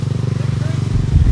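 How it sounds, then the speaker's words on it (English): A motorcycle engine drones in a steady pulsing rhythm close by, swelling slightly louder as it passes, with a voice talking over it. "Motorcycle passed"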